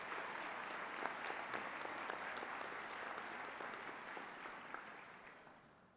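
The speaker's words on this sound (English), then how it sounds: "Please join me in a round of applause acknowledging their incredible service to the college." A large crowd at a college commencement ceremony claps in a sustained round of applause, distant and fairly soft, fading gradually at the close.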